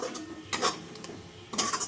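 Spices being stirred into onions in a pan for chicken kosha, a few quick metallic scrapes and clinks of a spoon against the pan, close and soft, with a faint background hum and no talking.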